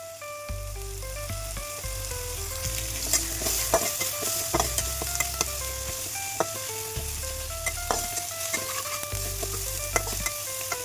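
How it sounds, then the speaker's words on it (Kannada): Seasoning of salt, turmeric and peanuts frying in a pan for shavige bath, a continuous crackling sizzle with repeated rhythmic stirring clinks and scrapes, heard alone and close. "ಇತ್ತೆ ಶೋಕುಡೆ ಪೂರ ಫ್ರೈ ಆತಂದು"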